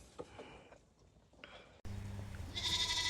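A Saanen dairy goat bleats in a farm setting, a few short calls, with a louder, sustained bleat near the end over steady background noise.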